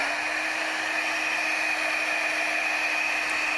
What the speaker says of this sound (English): To prep your thermoplastic before you emboss, you are going to apply heat using a heat tool